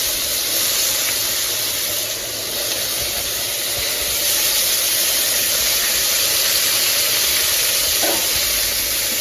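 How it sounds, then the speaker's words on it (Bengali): A steady hiss of chopped potatoes frying with green chillies and panch phoron fills the scene, continuous and fairly loud, with only a faint clink near the end. "আলুগুলো ভাজা ভাজা হয়ে যায়।"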